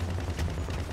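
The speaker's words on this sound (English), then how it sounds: "can't hear you over these gunshots." Gunfire in Grand Theft Auto 5 during a military mission, a dense continuous rattle of shots with a heavy low rumble running steadily through the moment, no talking over it.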